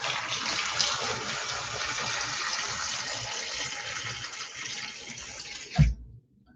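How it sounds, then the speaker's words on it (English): Water gushes steadily into a pot for boiling for about six seconds, loud and close. It stops with a brief knock at the end. "I'm just going to add water now and be boiling this"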